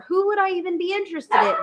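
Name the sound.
dogs barking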